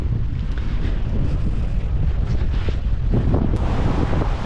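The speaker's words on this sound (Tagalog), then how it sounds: "ang lakas ng hangin" Strong wind in New Zealand roars continuously across the microphone, a dense low rumble with occasional gusts, no one speaking.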